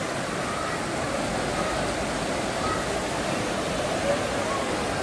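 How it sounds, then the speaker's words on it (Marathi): Steady, dense roar of rushing water from a waterfall, loud and continuous with no breaks throughout. "आवाज छान येतो आहे पाण्याचा"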